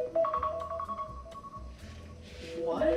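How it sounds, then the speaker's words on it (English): A phone alarm set as a pill reminder plays a short run of bright electronic beeps, then goes quiet under low room noise. A faint rising tone returns near the end. "My phone has never made that sound. That's my alarm to take my pills,"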